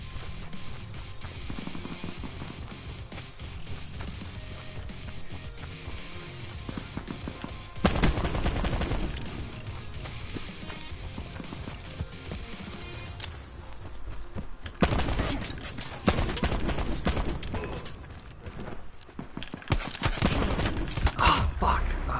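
Rapid gunfire in Black Ops 4 gun game mode, dense bursts of close shots and rattling fire, loudest in clusters around the middle and near the end, with busy in-game action around them.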